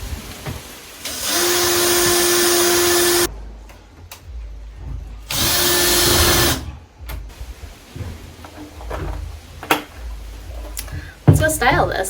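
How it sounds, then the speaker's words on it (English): A power drill drives screws in two sustained, loud whirring bursts of about two seconds and one second, with a quiet pause between them. Lighter clattering and handling knocks follow afterward. "let's get back to drilling."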